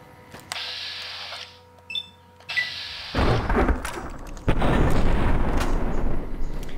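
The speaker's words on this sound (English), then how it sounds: "get out my grenade rifle with this new ammo that I bought" Grenade rifle fired at scorpions in Fallout: New Vegas, a few sharp launch thumps followed by loud, dense booming explosions that build and sustain toward the end.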